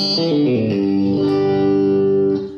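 A short electric guitar lick played through heavy effects, chorus and distortion, quick notes settling into a sustained ringing chord that cuts off.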